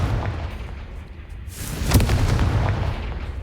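A spell-blast explosion in a video game: a loud boom bursts out around two seconds in, with a rumbling tail over a dense, noisy game backdrop.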